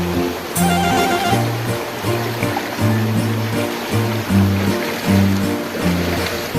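A flowing stream near a hidden waterfall in a rural sitio, steady rushing water close by with a continuous broadband wash, overlaid by rhythmic low humming tones that pulse in a regular pattern.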